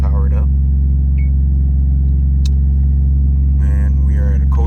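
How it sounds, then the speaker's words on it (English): 1998 Toyota Chaser JZX100 with a 1JZ-GTE turbo engine idling after a cold start, a loud, steady low rumble close by, with someone talking briefly over it. "so you'll be able to see how it runs from a cold start here. Starts right up."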